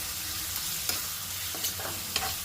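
Raw mango pieces sizzle and crackle in a frying pan for an Ugadi dish, with a steady hiss broken by several sharp scraping stirs of a spoon against the pan.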